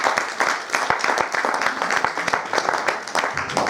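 An audience at a welcoming ceremony bursts into loud, close applause, with sharp individual claps standing out from a dense, uneven patter that keeps going for several seconds.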